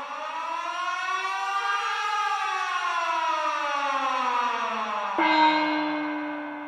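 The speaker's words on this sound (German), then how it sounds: "Und das habe ich so zuerst Sirene genommen und dann Gong." A wailing siren effect played as live musical accompaniment to a film at the Kino Babylon cinema in Berlin, rising and slowly falling in a long sustained tone, then cut by a sharp gong stroke that rings on briefly.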